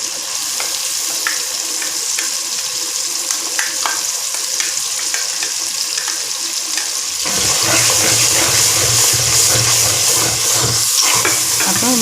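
A wet paste of ground cumin, fennel, black pepper, tomato and onion drops into hot oil for a stingray fish curry, and a faint sizzle swells into a loud, thick, bubbling fry with spatters, heard alone and up close.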